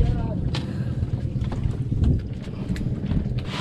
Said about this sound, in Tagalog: May bangka guys doon sa likod natin.